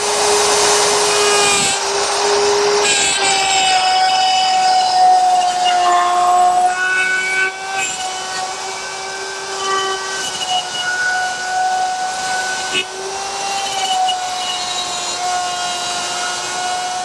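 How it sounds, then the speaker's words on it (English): A router cuts dovetail pins in a drawer front clamped in a jig, giving a loud, sustained high whine that dips and shifts in pitch as the bit travels through the wood, with short pauses between passes. "draw front mounted in the top of the jig, I'm ready to cut the pins"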